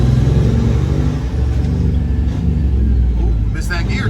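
Kenworth K100 Aerodyne cabover truck engine droning loud and steady inside the cab, a deep continuous rumble with slight shifts in pitch as gears change, no break in the sound.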